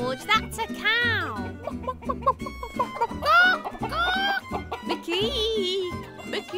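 Animated cartoon voices imitate a chicken, squawking and clucking in bursts, mixed with other chatter.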